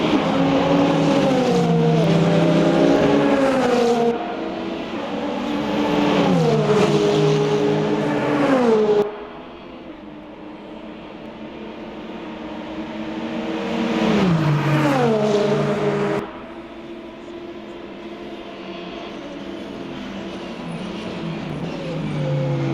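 A race car, number 36, roars past in the Le Mans Ultimate video game during the 24 Hours of Le Mans, its loud engine note rising and dropping through several gear changes and passes with no talk.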